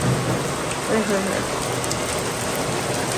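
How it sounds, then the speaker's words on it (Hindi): Heavy rain pours steadily and loudly, a dense continuous hiss with no pauses. "और तेज हो गई है बारिश, फुल तेजी बारिशों वाला सीजन चल रहा है।"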